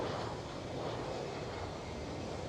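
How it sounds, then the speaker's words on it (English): An easyJet airliner lifts off at Amsterdam Schiphol, a faint, steady, distant engine roar with no other sound. "EasyJet departing and lift off"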